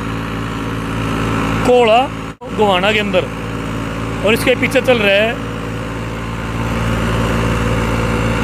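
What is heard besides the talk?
tractor pulling National 7-foot super seeder in field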